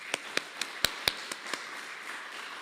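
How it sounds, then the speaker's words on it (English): Scattered, sparse hand claps from a small audience at an evening talk, about seven distinct claps spread over a couple of seconds, quiet and fading out. "please, one more round of applause for Marion Snowden"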